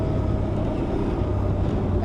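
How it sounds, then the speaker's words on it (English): An Aprilia Tuareg 660 parallel-twin motorcycle at about 80 km/h in fifth gear, near 4,000 RPM, gives a steady, loud engine drone mixed with wind rush while riding. "it's a nice engine, distinct again from the CP2 on the Yamaha."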